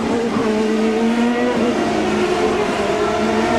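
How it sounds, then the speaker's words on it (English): An IndyCar in a 1994 CART race on the Long Beach street circuit locks its brakes and spins into the first corner: a loud, steady engine drone with tire squeal running through it, no voices. "Paul had more rear brakes than the front brakes, locked it up and spun it"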